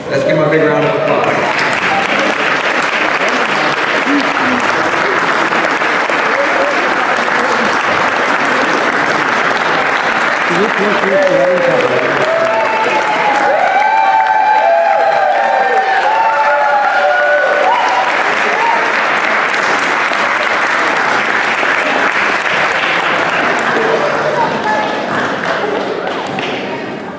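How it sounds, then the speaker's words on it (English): Wedding guests applaud warmly and steadily for nearly half a minute, a dense continuous wash of clapping from a sizable crowd with some voices mixed in. "Let's give him a big round of applause."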